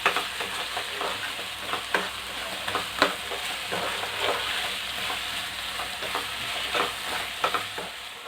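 Country chicken pepper fry stirred in a pan, with a steady sizzle of frying and repeated scraping strokes of the spoon at an irregular rhythm, close and fairly quiet, with no talking.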